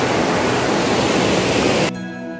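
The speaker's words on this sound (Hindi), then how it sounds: "मिर्चाया फॉल पहुंच चुके हैं। बहुत ही आकर्षक नज़ारा है यहाँ का" Mirchaiya waterfall in Jharkhand, on a tributary of the North Koel river, roars with a dense, constant rush of water that fills the scene, then cuts off abruptly near the end to a quieter, different sound.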